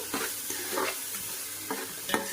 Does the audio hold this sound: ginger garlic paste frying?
yes